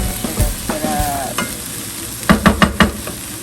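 Corned beef and potatoes frying in a pan are stirred, giving loud, close scraping strokes over a steady sizzle, with a cluster of sharper scrapes near the end and no talking.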